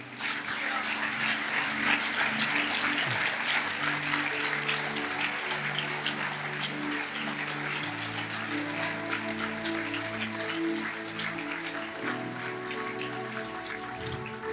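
A church congregation in an auditorium applauds steadily for about fifteen seconds, a dense wash of clapping heard from within the room, with sustained musical tones from instruments underneath.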